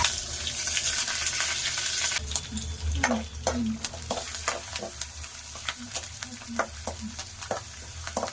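Green chillies, urad and chana dal, mustard and cumin seeds frying in hot oil for cabbage upma, a steady sizzle with scattered pops and spatula scrapes, close by and without talk.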